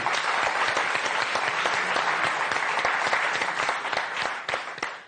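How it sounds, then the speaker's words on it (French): Studio audience applause on the French game show Motus, dense rapid clapping from a modest crowd, close and bright, holding steady before trailing off at the end. "Voilà, applaudissements, merci."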